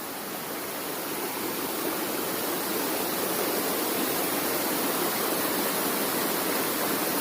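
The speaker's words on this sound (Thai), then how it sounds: "นี่คือน้ำตกซำไซอำเภอขุนหารจังหวัดศรีสะเกดนะครับ" Constant roaring rush of Sam Sai waterfall in Khun Han district, Sisaket, Thailand, a dense, even wash of falling water with no talk.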